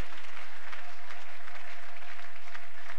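A church congregation applauds with loud, sustained, even clapping that fills the whole moment.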